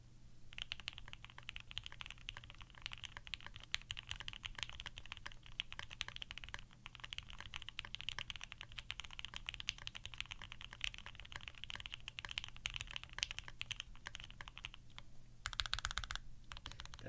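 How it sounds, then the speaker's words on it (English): Steady, dense typing on a Piggy 60 mechanical keyboard, with rapid overlapping keystroke clacks running continuously at close range and no talking. "how the board might sound if somebody else was typing on it"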